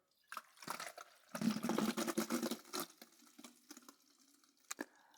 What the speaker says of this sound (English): I immediately put some water.